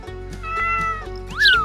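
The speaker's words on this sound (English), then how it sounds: "cat," A cat meows a few times in a farm animal sound series, with drawn-out cries and a rising, higher final meow heard up close over a steady low background of music.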